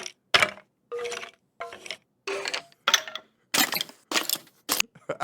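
Hollow clattering bone-rattle sound effect of a Minecraft skeleton from the video game, heard as a series of about nine short, sharp rattling bursts separated by brief silences, fairly quiet, with no talking.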